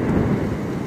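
Thunder rumbles low and loud during a heavy rainstorm in the UAE, a brief deep roll over the steady wash of falling rain, with no one talking.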